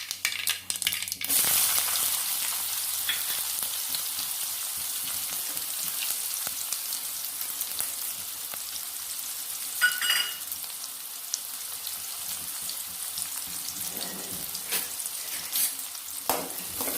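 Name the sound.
onions frying in a pan for moong dal sambar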